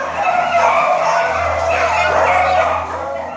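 Many beagles bark and yelp together in a crowded breeding mill, a loud, dense, continuous din of overlapping barks and whines echoing in an enclosed space.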